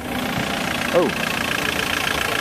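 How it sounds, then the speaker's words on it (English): A Citroën 2CV engine fitted in a kit car runs steadily at an old-car market, its even throbbing idle close and loud while a person briefly speaks over it. "this is a 2CV engine"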